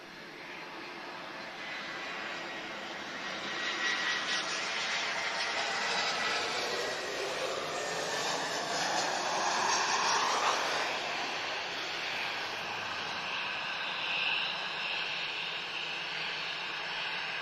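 An EasyJet airliner, an A320, at Lisbon Airport, heard from a distance as a broad, steady jet roar that swells and slowly fades over many seconds.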